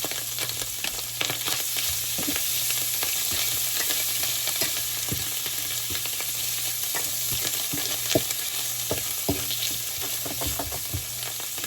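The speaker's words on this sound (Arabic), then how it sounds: "درته في الزيت ديال الكوتليت باش ياخد البنة ديال الكوتليت" Canned mushrooms sizzle and crackle steadily in leftover cutlet frying oil in a pan, a continuous close bubbling hiss with scattered pops.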